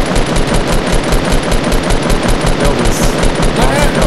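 Rapid, loud automatic gunfire in the battle royale video game Fortnite, a continuous burst of shots that fills the whole clip.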